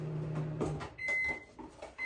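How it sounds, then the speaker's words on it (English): A household microwave oven runs in a kitchen during party food prep, its steady hum carrying over clinks and rustles, with a bright electronic beep tone sounding twice near the end. "The microwave goes on."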